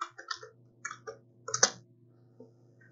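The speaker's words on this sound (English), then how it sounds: "we also be typing ipconfig" A few sparse keystrokes tap on a computer keyboard while a Windows 10 command is typed, short irregular clicks over a faint steady hum, close and quiet, with no speech.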